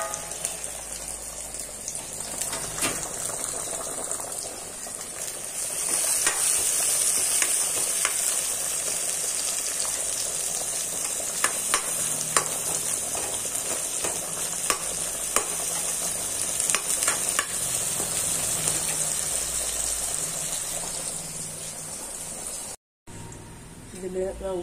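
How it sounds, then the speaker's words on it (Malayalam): Red onions (shallots) stirring and sizzling in a hot pan for a Thrissur-style backwater fish curry in coconut milk, a steady close fry hiss with scattered spoon scrapes and clicks, continuous with a brief drop near the end. "അതൊന്ന് മുരിഞ്ഞ വരെ നമുക്ക് ഇളക്കി കൊടുക്കാം."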